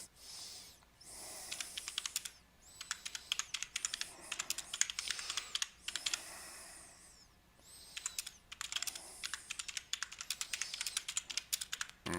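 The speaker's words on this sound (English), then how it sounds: "I'm going to type this in" Rapid bursts of computer keyboard typing, steady clacking keystrokes in clusters broken by short pauses, close and fairly quiet with no voices.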